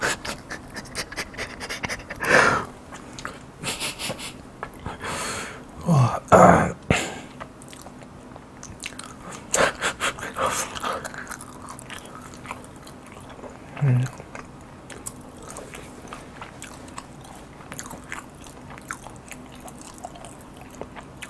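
Green onion flavored cereal eaten close up for a mukbang, with scattered crunching and chewing bursts, some sharp and loud, amid quiet mouth sounds and faint background noise.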